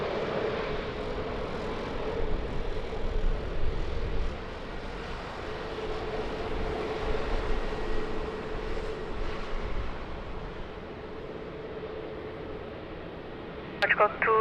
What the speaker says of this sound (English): Another butter landing